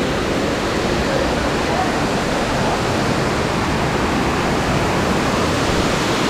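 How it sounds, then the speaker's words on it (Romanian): Waterfall pouring steadily, a loud, unbroken wash of rushing water close by, heard alone without any voices. "Asta e cascada aici."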